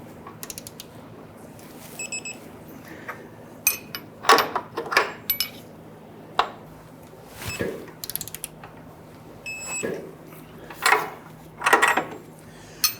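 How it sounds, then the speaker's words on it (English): Torque wrench tightening the inboard lower control arm bolts to 148 foot-pounds on a 1994-2004 Ford Mustang, giving a series of ratcheting creaks and clicking bursts in short pulls, close and moderately loud, with no talk. "Now we're going to torque down these bolts to 148 foot-pounds."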